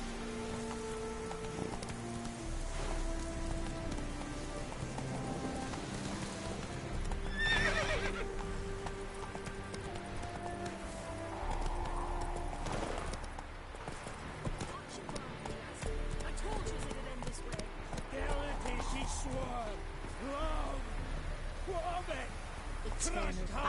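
Roach the horse gallops and neighs in The Witcher 3, hooves clip-clopping steadily over a rainy backdrop with a clear whinny midway, while game voices speak over the action.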